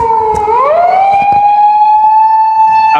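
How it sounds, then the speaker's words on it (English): A police car siren wails in a steady, loud tone along a street in Fukuoka City, Japan, its pitch rising briefly and then holding as the vehicle passes close by, with traffic noise underneath. "a bonus police car"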